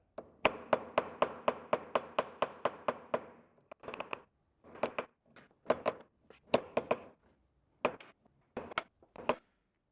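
Steady hammer blows knock an old gasket loose during a dozer transmission rebuild, first a fast run of about a dozen evenly spaced metallic taps, then slower, irregular strikes in small clusters, close and fairly quiet with no talking.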